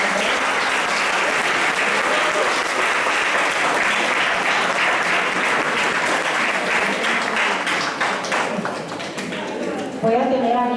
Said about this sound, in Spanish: Fuerte los aplausos entonces para el profesor.